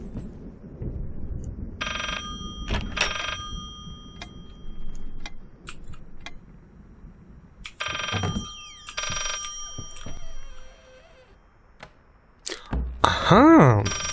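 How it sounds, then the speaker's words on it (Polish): A telephone hidden behind books rings in the Layers of Fear horror game, two bursts of electronic bell tones spaced several seconds apart, with faint ticking and creaks between them, followed by a rising eerie tone at the end. "To jest telefon ukryty za książkami."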